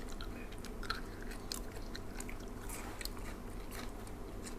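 Quiet close-up chewing of a spicy Thai salad of pork roll and fresh shrimp with chilies, soft repeated bites and crunches spread evenly through the clip with no talking.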